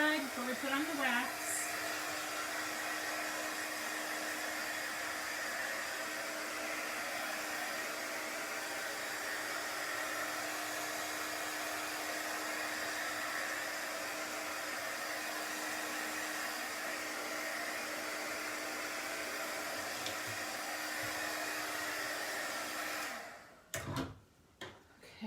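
A hair dryer blows steadily on chalk paste before waxing, a loud close continuous whir that runs unbroken for over twenty seconds, then cuts off abruptly near the end.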